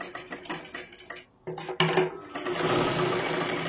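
A sewing machine runs a press stitch along the edge of a blouse with tucks. Short uneven bursts and clicks of cloth handling build into a steadier, louder whir toward the end.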